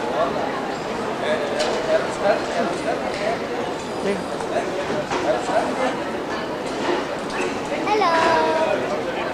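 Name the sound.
person imitating dogs barking, pretending suitcases are dogs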